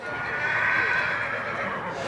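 A horse gives a long, loud whinny at the annual Cow Country Classic Horse Sale at Billings Livestock Commission, a livestock auction, heard close and alone for about two seconds.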